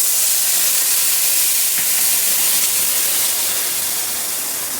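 Water poured into a hot pan of fried spices and potatoes for a fish curry, a loud, steady sizzling hiss that holds for several seconds and fades slightly toward the end, close up with no talking.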